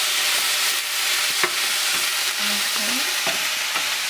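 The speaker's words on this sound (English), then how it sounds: "we're just going to let that continue to boil and become thick" A pan sauce for a steak sandwich bubbling and reducing on the stove, a loud, steady sizzling hiss with a few soft clinks and small pops over the top.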